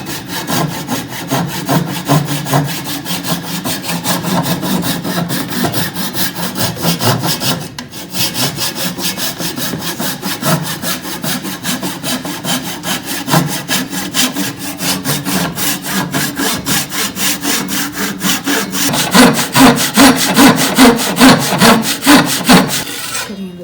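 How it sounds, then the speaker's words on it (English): A hand saw cuts into wood with a steady run of rapid back-and-forth rasping strokes, close and loud, briefly pausing before resuming with heavier strokes toward the end. "Cutting into the wood."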